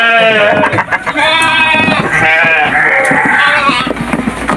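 Farm goats bleating loudly and continuously, several overlapping wavering calls close by with steady background noise.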